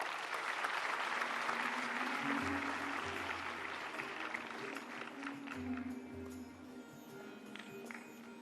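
An audience at the valedictory session of a UNESCO India Africa Hackathon gives a round of applause, loud dense clapping that gradually thins and fades toward the end, with faint low voices underneath.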